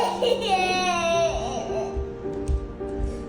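A child cries close by, a wavering, falling wail that trails into sobbing whimpers, loud and alone in a quiet room.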